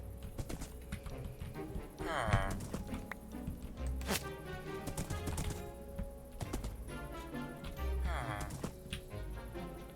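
A horse's hooves clip-clop in a farming video game set around building a medieval paper mill, with repeated light hoof taps heard under a person talking throughout.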